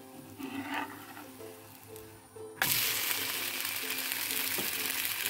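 A pancake fries on its second side in a hot pan, a soft sizzle that jumps to a loud, steady broadband crackle after it is flipped and continues alone to the end.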